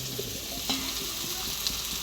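Meat sizzles in a pan as it is stirred with spices, giving a steady close frying hiss broken by a few soft scrapes of the spoon. No one speaks.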